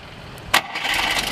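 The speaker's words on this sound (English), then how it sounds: "We'll go ahead and fire this one up for you." A 1956 Mercedes-Benz 190SL engine cranks and catches with a sudden burst, then settles into a steady, rough mid-pitched idle.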